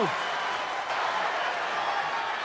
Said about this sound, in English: This pro-mutiny crowd can't believe it.